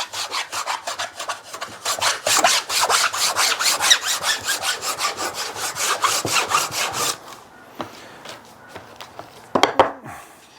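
Abrasive scratching of a veneer glue-up substrate, worked diagonally across the surface: a steady run of loud, rhythmic rasping back-and-forth strokes for about seven seconds, then a pause with a few scattered scrapes and one brief burst near the end.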